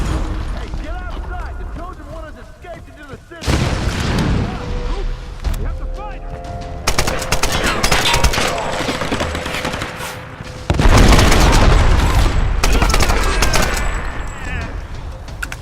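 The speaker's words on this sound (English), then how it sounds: "Seems like the explosions are sort of on our side right now." Dense bursts of gunfire and explosions in the video game Tomb Raider, loud and sustained, with a heavy boom near the end and voices mixed in underneath.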